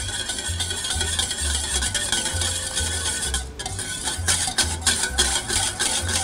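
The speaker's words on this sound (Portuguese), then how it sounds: "e mexer com fouet" A whisk beats coconut oil, yogurt and water together for muffin batter, a loud, steady rhythmic stirring and scraping against the bowl, close up and with no one speaking.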